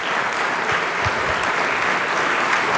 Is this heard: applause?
yes